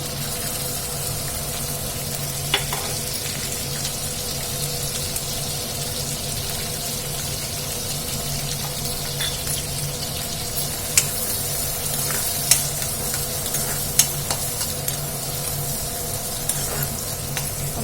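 Chopped onions frying in ghee in a pan for street-style pav bhaji give off a steady, close sizzle that runs unbroken, with a few faint clicks and taps scattered on top and no voices.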